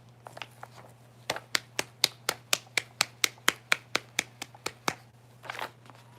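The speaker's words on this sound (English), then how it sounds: "Can we get a clap for the monks?" Sharp, evenly spaced claps ring out about fifteen times in a steady rhythm, close and crisp, with a few softer rustles before and after over a low hum.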